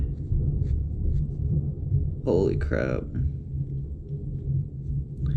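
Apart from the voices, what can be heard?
thunder rumbling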